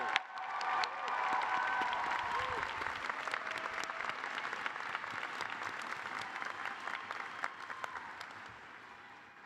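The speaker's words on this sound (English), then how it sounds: "Let's give them all a round of applause." A large outdoor college commencement crowd gives sustained applause with scattered cheers and whistles, the dense clapping steady and somewhat distant, and faint voices mixed in early on.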